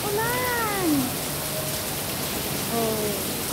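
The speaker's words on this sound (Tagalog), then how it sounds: "Tignan niyo ang lakas-lakas ng ulan." Heavy rain pours down in a constant hiss, with a person talking over the downpour in short bursts.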